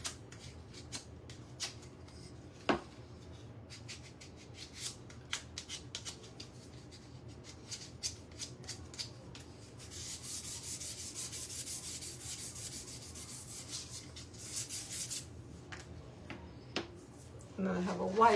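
Sanding a painted wooden patriotic centerpiece by hand, with faint scratchy rubbing strokes that grow into a steadier, louder rasping stretch midway, quiet and close with occasional small taps.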